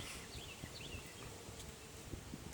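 Honey bees buzz on hive frames in a low, continuous, faint drone with small rustling movements around it and no voices.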